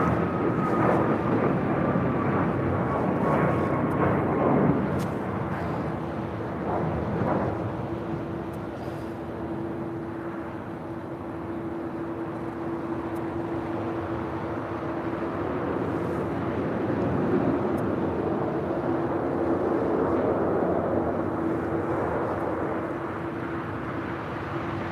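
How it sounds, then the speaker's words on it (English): A United Airlines Boeing 787-9 Dreamliner jet at LAX gives a steady, broad roar with a sustained engine whine, moderately distant and continuous throughout, with wind noise on the microphone. "It's a 787-9 Dreamliner heading to San Juan, heading to the 25s."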